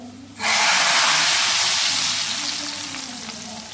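Tempering poured into dal palak sets off a loud, sudden sizzle that bursts in and holds as a dense, steady hiss, easing off only slightly toward the end.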